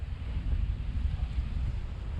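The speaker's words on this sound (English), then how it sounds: "wind is blowing 20" Wind gusts across a sailboat cruising at sea in about 20 knots with whitecaps around, a steady low rumbling buffet against the microphone, mixed with faint water wash and no voices.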